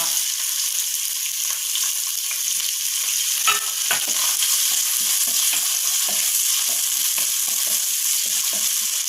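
Chopped garlic and onion frying in a pan, a steady bright sizzle throughout with scattered scraping stir strokes, close and even, with no talking.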